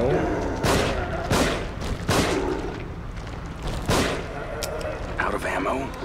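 Gunfire in the horror game The Evil Within: several loud, sharp shots spaced about a second apart, each with a booming low tail, with a voice talking faintly between them.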